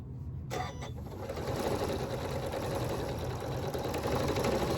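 A sewing machine stitching a rag quilt bag with a half-inch seam. It starts after a brief pause and then runs as a steady, close mechanical whir with fast needle rattle. No talking.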